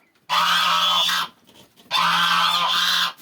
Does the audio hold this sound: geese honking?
yes